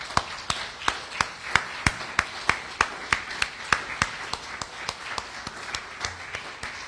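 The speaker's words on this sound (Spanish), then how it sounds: "Dale un fuerte aplauso al Señor, hermano." A church congregation claps in a steady, regular rhythm of sharp hand claps, evenly spaced and moderately loud, continuing for several seconds without talk.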